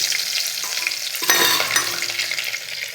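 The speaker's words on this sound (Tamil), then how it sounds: "அப்புறமா அடுப்பில் எண்ணெய் சட்டி வச்சாச்சு. வெந்தயம், பூண்டு" Fenugreek seeds and garlic fry in an oil pan, a steady close sizzle with a brief louder crackling burst as ingredients hit or are stirred, no voices.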